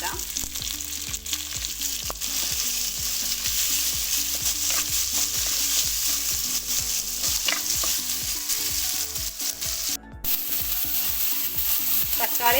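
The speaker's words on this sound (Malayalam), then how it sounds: "തക്കാളിയൊക്കെ നന്നായിട്ട് വഴണ്ട് വന്നിട്ടുണ്ട്." Chopped tomatoes sauté in a pan with ginger, garlic and green chilli, giving a loud continuous sizzle under rapid, rhythmic scraping of a spoon stirring throughout.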